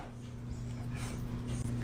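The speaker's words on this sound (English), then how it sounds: "Such a cute dog." A dog whimpers and yips in short, high whines over a steady low indoor hum, fairly close but not loud, with no talk.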